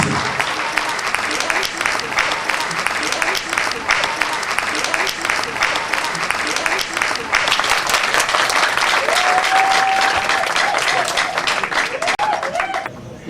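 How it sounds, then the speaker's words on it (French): Sustained audience applause at a prize award ceremony, loud and dense clapping that swells and carries on for many seconds, with a brief whistle-like tone and a few voices beneath it. "On l'applaudit bien fort."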